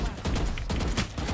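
Rapid gunfire in Counter-Strike, a dense close burst of repeated shots packed into a second and a half with no pause between them.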